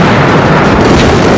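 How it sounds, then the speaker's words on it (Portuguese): Extremely loud, dense roar from an M61 rotary cannon firing a burst from a jet fighter in aerial combat over Vietnam, a continuous saturated blast filling the whole moment with no talk. "Acionei o gatilho e disparei uma rajada."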